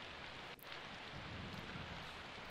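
Rain in the video game Persona 4 Golden: a soft, constant wash of falling rain with faint low rumbling underneath, quiet and even throughout, no voices present.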